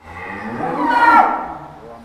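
Cattle on a farm give a single loud, close moo that swells up and fades over about two seconds, with no talk over it.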